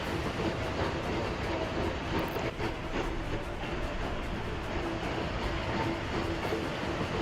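A train rolls steadily along rail tracks in a 1930s-era railway simulation game on flat land with hills, producing a constant dense rumble with faint clickety-clack, heard alone at an even level throughout.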